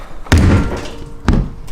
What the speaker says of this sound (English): See, the door closes hard.